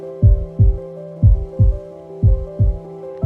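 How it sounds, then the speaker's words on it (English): A loud, deep heartbeat thumps in a steady paired rhythm, lub-dub repeated about six times over a low sustained hum. "that heartbeat beating in your chest"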